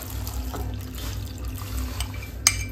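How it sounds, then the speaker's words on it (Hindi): Strawberry-flavoured custard mixed in water being poured into milk, a steady low liquid pour and splash continuing throughout with a brief sharp clink near the end, fairly quiet and close. "तो अभी कस्टर्ड को डाल देते हैं इधर दूध में।"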